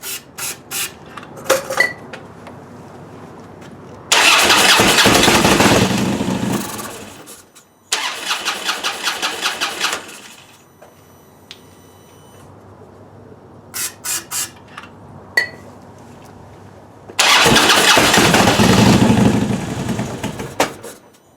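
A Harley Road King with a fuel system failure makes several start attempts: loud bursts of cranking and brief engine roar that die away, separated by quiet gaps and quick, rhythmic starter clatter.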